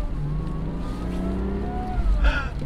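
Supercharged first-generation Lexus IS200 accelerating on a public road, a steady engine drone heard from inside with a sharp rev rise near the end, no talk over it.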